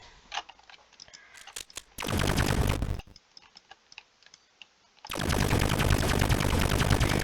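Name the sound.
rapid gunfire from a Roblox FPS kit gun, video game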